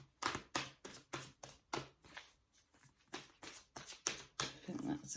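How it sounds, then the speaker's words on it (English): Tarot cards are shuffled by hand in quick, crisp riffling bursts, a dozen or so rhythmic flutters with brief pauses between them, close and fairly quiet. "giving these a quick shuffle"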